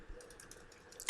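Quiet keystrokes on a computer keyboard entering a DNS server address, a short run of soft clicks ending in one sharper tap.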